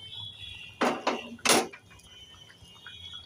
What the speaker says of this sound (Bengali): এবার ঢাকনা খুলে দেখব।